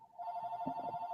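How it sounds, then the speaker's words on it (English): A home landline telephone rings with a steady electronic trilling tone, loud and continuous, while faint voices murmur underneath. "That's my house phone. Yes, I have a house phone."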